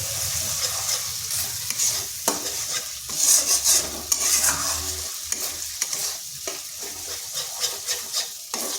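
A spatula keeps stirring a masala of poppy seed and cashew paste frying in a pan, with steady close sizzling under irregular scraping strokes and no talking.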